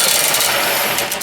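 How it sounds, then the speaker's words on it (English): Electric impact drill with only forward and reverse on the trigger, driving a homemade sheet metal brake, whirs steadily and close with a gritty high buzz and no talk over it. "On top is an electric drill impact with just forward and reverse on the trigger."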